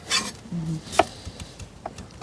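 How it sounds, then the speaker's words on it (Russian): A knife cuts sweet potato into round slices on a board, a few distinct chopping taps spaced irregularly, close and fairly quiet. "А я шайбу режу."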